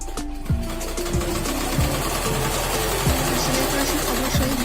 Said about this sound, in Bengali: এখন আমি ওই ইলাস্টিকের উপর একটা সেলাই দিয়ে দিব মাঝখানে